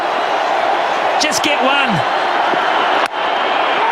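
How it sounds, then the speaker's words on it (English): Cricket stadium crowd roaring and cheering with whoops during a one-day international, a dense, loud sustained wall of noise with voices and a commentator talking over it. "Everyone's on their feet. The crowd's going nuts here."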